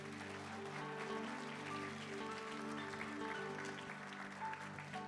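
Church congregation applauding at a morning service, a steady, dense wash of clapping from many hands filling the room, with organ or keyboard tones sustained underneath.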